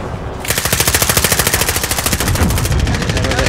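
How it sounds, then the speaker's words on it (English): Sustained automatic gunfire in Call of Duty Warzone, a loud, steady rapid-fire rattle of evenly spaced shots running for about three seconds, close and dominant with no voices. "they're shooting RPGs at us"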